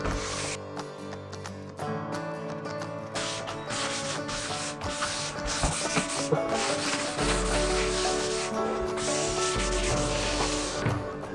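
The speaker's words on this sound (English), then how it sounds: "give it a light sand down with this 180 grit sandpaper" A painted door is hand-sanded with 180 grit sandpaper before repainting with water-based paint, giving a steady, close scratchy rubbing that runs continuously in long strokes with no talking.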